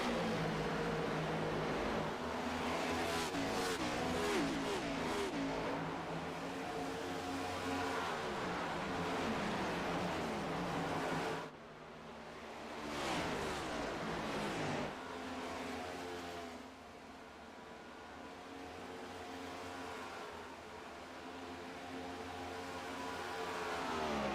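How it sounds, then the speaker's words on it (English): Race cars on the Charlotte oval in a sim racing game hold full throttle, a continuous high-pitched engine roar with layered whining tones that dips briefly midway and then swells back, with no talking. "John Hagen never got out of the throttle."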